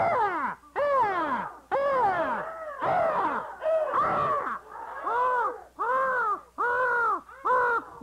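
A voice imitates a crow, producing about nine loud, harsh caws in a steady rhythm, each a short falling rasp with brief gaps between, with no other talk.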